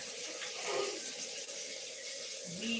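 Tap water runs steadily into a kitchen sink at home, a continuous close hiss of splashing water heard alone throughout.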